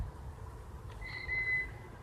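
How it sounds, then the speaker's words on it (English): A short, clear bird whistle rings out once over a quiet outdoor background with low rumble. "Oh, that's a bird."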